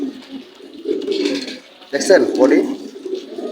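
Racer pigeons coo softly in the background while someone talks up close over them.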